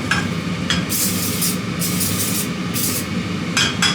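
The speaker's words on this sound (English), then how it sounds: "Just a little bit of spray oil." Several short hissing bursts of cooking oil spray onto a pan, rhythmic and close, over a steady low rumbling background.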